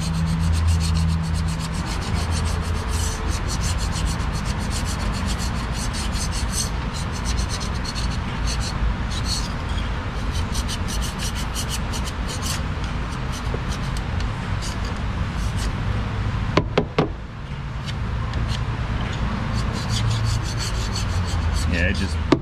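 Scraping and rubbing as old gasket material is cleared from a GMC 2500 differential cover, a steady close abrasive sound running throughout with a few brief sharp clicks near the end.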